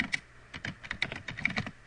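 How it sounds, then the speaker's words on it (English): Rapid typing on a computer keyboard while building a position-versus-time chart in Office 2007, a steady run of close, crisp key clicks with uneven rhythm and no talking. "And then I'm going to type"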